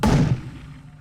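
Sodium pill bursting in water during a grease-fire experiment: a single sharp, loud pop with a thudding burst at the start, then a decaying rumble and fizz that fades over the following second, no voices.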